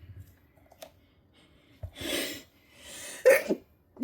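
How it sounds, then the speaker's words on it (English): A person sneezes twice in quick succession while working on resin dominoes indoors, each burst sharp and breathy, with a quieter tail after the second and near silence before. "I'm going to sneeze again."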